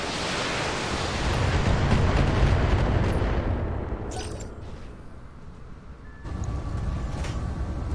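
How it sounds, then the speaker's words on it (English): Mech weapons fire against several enemies in the Battletech video game, a loud, rumbling barrage that swells, slowly fades, then surges back near the end, with no talking. "Firing on multiple enemies."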